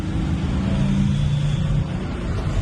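Descending Kennon Road, a vehicle's engine drones in a low, steady, close rumble as it brakes on the engine, with a droning tone that shifts slightly in pitch and no talking heard.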